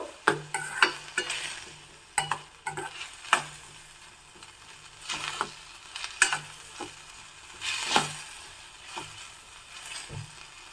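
Tomatoes sautéing in a pan with salt, a soft sizzle broken by repeated scraping and clinking strokes of a spoon stirring at an irregular pace.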